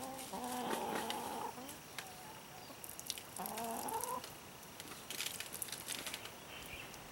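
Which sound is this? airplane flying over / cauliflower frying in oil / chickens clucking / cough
chickens clucking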